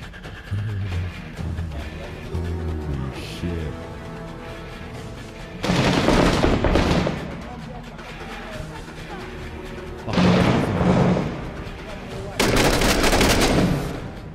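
Explosions and gunfire in the Six Days in Fallujah combat video game: three loud, heavy bursts of blasts and rapid shots break through a quieter stretch of low rumble and faint voices.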